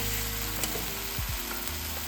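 Potatoes and pre-fried jackfruit hit hot oil in a pan, giving a steady close sizzle with a couple of brief clatters as pieces go in, and no talking.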